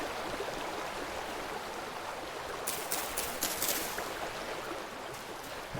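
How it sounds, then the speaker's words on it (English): Waterfall in the Minecraft video game, a steady loud rushing roar of falling water heard from close beside it, with a brief brighter splashing burst midway and no talking. "That waterfall is just awesome. It's very loud beside it"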